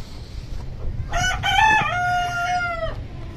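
Free-range desi aseel chickens sit on a farm as a nearby rooster lets out one loud, drawn-out crow over a low background murmur, with faint clucking around it.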